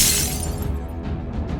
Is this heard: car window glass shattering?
yes